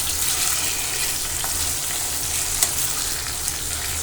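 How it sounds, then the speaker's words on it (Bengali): Pieces of rohu fish frying in hot oil in a pan, a dense continuous sizzle with a low bubbling undertone and a couple of faint knocks, steady and close. "দাঁড়াও, মাছগুলো ভেজে নিচ্ছি।"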